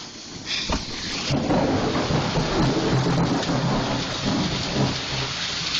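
An intense storm in New York sends hail and heavy rain pounding on a house, a dense, loud, continuous roar with low rumbling thunder beneath and a few sharper impacts.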